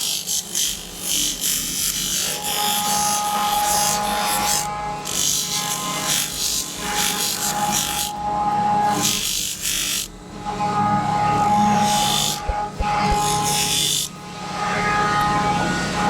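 A power tool works steadily over a handmade knife, smoothing rough spots on the blade, with a continuous grinding whir that dips briefly in places, loud and close with no talk over it.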